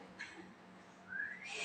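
A faint whistled tone rises near the end of the short stretch, thin and breathy, with a stronger sweep in the final half second.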